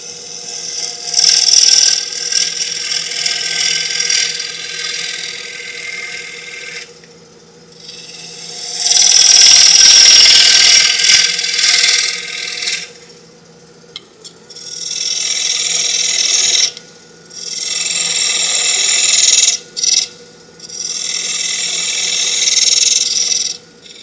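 A wood lathe turns a tenon on a sycamore and oak pedestal bowl, the gouge producing bursts of hissing, scraping cuts separated by short pauses over a steady motor hum, fairly close, with no talking.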